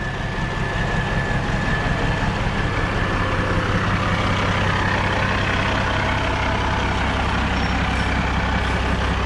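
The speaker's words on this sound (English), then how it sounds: "This truck is sweet, let me tell you guys. Look at this thing, this thing's loud" A CAT 315 excavator idles loudly nearby, giving a steady, unbroken diesel rumble with a low throb and a broad mechanical hiss that stays level the whole time.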